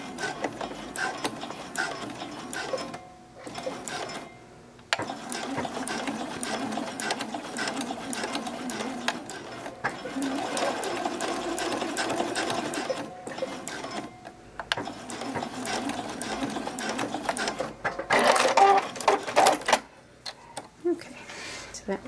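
A sewing machine stitches forward and back over the elastic edge of a lace bralette in several bursts of fast, even whirring separated by short pauses, moderately loud and close, with a person talking over parts of it.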